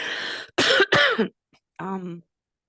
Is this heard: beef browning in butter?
no